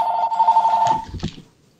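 A telephone ringing in a Minecraft survival game, one loud sustained electronic ring tone that cuts off abruptly, followed by a brief clatter fading into quiet.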